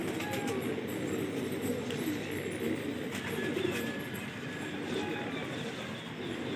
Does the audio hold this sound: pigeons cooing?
yes